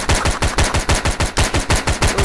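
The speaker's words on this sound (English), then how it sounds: "Look! Chihiro, look! It's an MP5" Rapid automatic MP5 gunfire in the virtual-reality game VRChat, a fast even stream of about a dozen loud, close shots in quick succession, with no talking over it.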